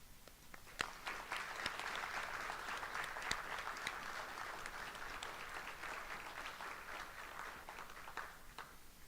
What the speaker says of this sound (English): please join me once again in applauding all of our Honor Society members